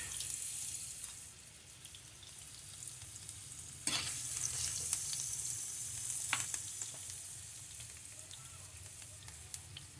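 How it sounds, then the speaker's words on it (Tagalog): Garlic sautéing in a pan as the first step of an Arabic chicken molokheya, a continuous close sizzle marked by occasional sharp stirring knocks. "Lagyan natin ng bawang. Gigisa ko tayo ng bawang."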